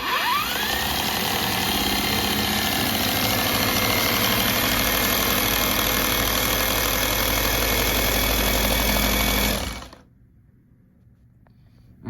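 A pump prototype's impeller spins steadily in its casing with a loud, continuous motor hum and whine for about ten seconds, then cuts off abruptly to near silence.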